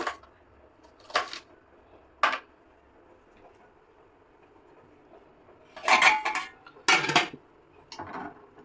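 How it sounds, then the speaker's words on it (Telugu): Onions being cut with a knife in a home kitchen, heard as about six sharp, close chops on a board, spaced irregularly with quiet gaps between them and no talking. "ఆనియన్స్ కట్ చేస్తున్నాను."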